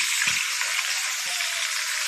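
Fish sizzling as it fries in a pan in a home kitchen, a steady, soft hiss of oil throughout with a couple of faint low knocks.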